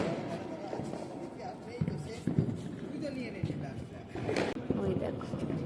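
Diwali firecrackers bursting at night in scattered directions, heard as a handful of distant, muffled pops and cracks over a steady outdoor background din.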